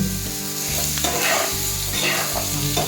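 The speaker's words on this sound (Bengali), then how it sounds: "ভালোভাবে নাড়াচাড়া করে আঁচ কমিয়ে" Raw green mango chutney with salt and turmeric is stirred in a pan, a steady close sizzle broken by repeated scraping strokes of a spoon, with no voices.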